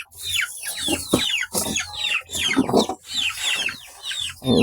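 Several chickens cluck nearby in repeated bursts of short, rising calls, fairly loud and uninterrupted by talk.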